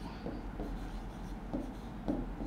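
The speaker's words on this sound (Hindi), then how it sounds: "मैं एग्जाम्पल लिखती हूँ बी एफ थ्री" Hand writing on a board or paper during a chemistry lesson, several soft scratchy strokes in short bursts over a low steady background hum, close and with no speech.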